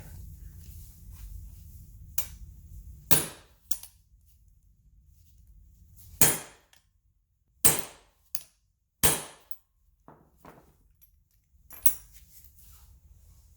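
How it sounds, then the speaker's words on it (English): Sharp metallic hammer strikes on a stuck front lower control arm bushing ring out one at a time at irregular intervals, loud and close, with quiet pauses between the blows. "So we'll see how it goes by just doing some hammering here."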